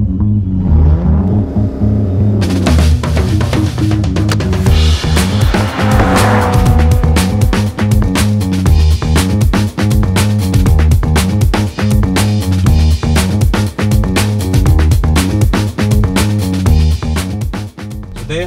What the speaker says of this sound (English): There was a hot lap around the lap in the 2024 Alfa Romeo around the Yas Marina Circuit.